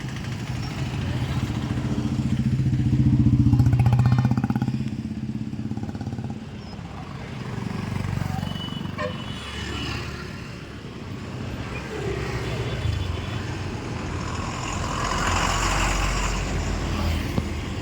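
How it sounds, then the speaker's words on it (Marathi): Cars and motorcycles passing on a roadside on a windy day, a rising and falling engine rumble sweeping by one after another, loud at first then steadier, with people talking over it. "आणि रोडवरती एवढ्या गाड्या येत आहेत."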